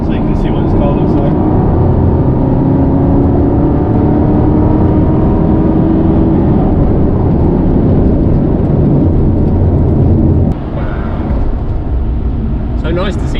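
A 2008 Aston Martin V8 Vantage on a country road gives a loud, continuous engine drone with rushing road and wind noise that holds steady and then eases slightly near the end.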